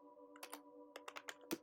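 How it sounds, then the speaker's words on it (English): Quick bursts of keystrokes on a computer keyboard, close and fairly soft, typing a name into a spreadsheet over a faint steady hum, irregular clicks clustered in short runs with no voice. "I'm just double clicking over there and then I'm typing the iPhone model's name"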